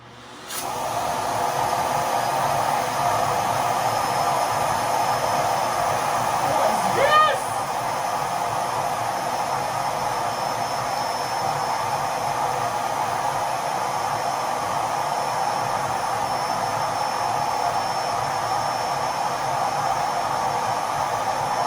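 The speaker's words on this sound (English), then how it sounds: "I'm going to use the vacuum and suck out all the air" A vacuum cleaner pulls the air out of a sealed vacuum storage bag packed with belongings, starting abruptly and holding a loud, steady whooshing drone for over twenty seconds, with a brief squeal of airflow partway through.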